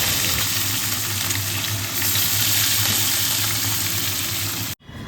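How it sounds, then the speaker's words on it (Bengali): Fish frying in a pan, a steady dense sizzle with a low hum underneath, continuous and close, cutting off abruptly near the end. "মাছটা ভেজে নিই"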